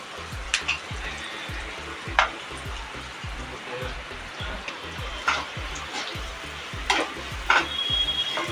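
Boiled, soaked chana dal being stirred and mixed in a pan for vatali dal, with soft scraping strokes and a light sizzle, punctuated by a few sharper clinks of the spoon, close and steady.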